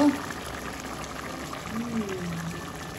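A pot of bamboo shoot and coconut milk stew bubbles steadily at a rolling boil, a continuous low gurgling and popping that stays even throughout.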